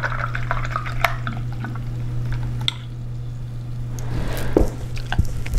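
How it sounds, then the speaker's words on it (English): A paint brush is swished and rinsed in a water cup during a painting session, giving soft close sloshing and squishing over a constant low electrical hum, with a brief louder splash near the end. "Now, for the eye, I'm gonna rinse out my brush."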